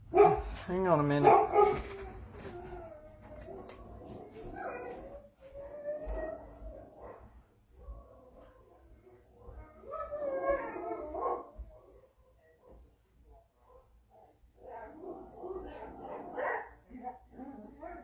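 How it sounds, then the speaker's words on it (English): Several dogs keep up a run of barks, yips and howls at a passer-by, coming in uneven bursts and lulls at moderate volume, with a voice talking at times. "they were barking at somebody walking by"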